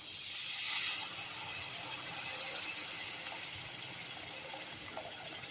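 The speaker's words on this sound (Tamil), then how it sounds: "இப்போ புளி தண்ணி ஊற்றிக்கிறோம்" A steady hiss of tamarind water hitting a hot pan, loud at first and slowly easing, sizzling continuously with no voices.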